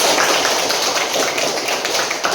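A class of students in a school lesson claps hands together in a dense, steady burst of applause that fills the whole moment without any talk.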